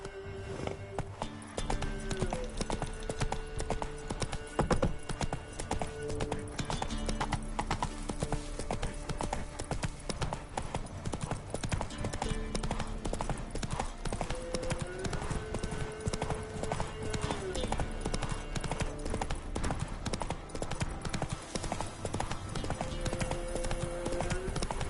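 Horse hooves clip-clopping at a trot in a Witcher game, a continuous rhythmic beat of hoofsteps throughout, accompanied by background music, no talking.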